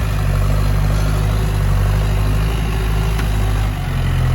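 A Massey Ferguson 4708 tractor with its stock turbo and original exhaust and muffler runs steadily, a loud, close, continuous diesel drone with a strong low rumble and no talk.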